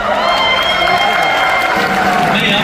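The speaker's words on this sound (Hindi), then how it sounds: "नहीं आप ताली बंद हो जाओ" Concert audience at a show in Columbus, Ohio applauding and cheering, a dense, steady wash of claps and crowd noise filling the hall, with voices mixed in.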